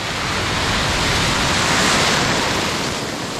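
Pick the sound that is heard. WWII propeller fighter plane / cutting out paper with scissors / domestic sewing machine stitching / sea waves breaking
sea waves breaking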